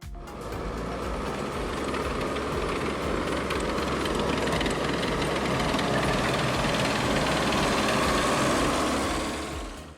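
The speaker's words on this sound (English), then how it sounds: "Tractor with round bale trailer." A tractor towing a round bale trailer rumbles steadily, with a dense rattling, knocking engine texture and clanking mechanical noise, close and loud throughout with no voices.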